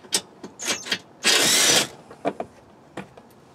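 A power tool works on bolts of a Toyota RAV4 Prime, giving several short whirring bursts and one longer loud run in the middle, with clicking ratchet-like taps between them.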